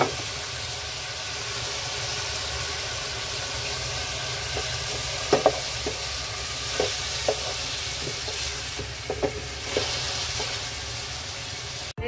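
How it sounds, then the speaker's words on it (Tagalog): Tomatoes and garlic sauté for a mung bean stew, giving a constant sizzle with scattered clicks and scrapes of a spoon against the pan. "Lagay ko na yung kamatis guys."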